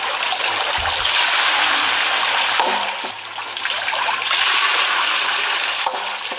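Water pouring and flowing steadily into a handmade mechanism at a forest house build, a continuous close splashing rush with a faint low hum underneath throughout.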